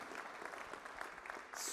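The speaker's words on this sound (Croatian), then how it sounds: "pa je molim vas pozdravite velikim pljeskom" An audience at a spiritual music festival in Zadar claps to welcome a young girl, a dense, steady patter of applause heard from within the crowd, with a brief burst of noise at the end.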